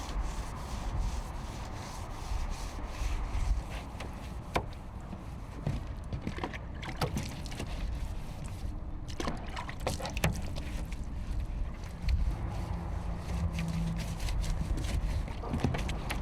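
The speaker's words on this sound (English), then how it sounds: "At least the dirt from the pond will come off with water and a brush." A neglected police car, caked in pond and swamp dirt, is scrubbed by hand with water and a brush: continuous close rubbing and scraping strokes with occasional sharper knocks.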